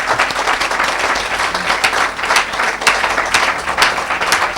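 A church congregation at a Saturday deliverance service applauds and cheers for Jesus, with dense, sustained clapping and crowd noise filling the whole stretch at a steady, loud level.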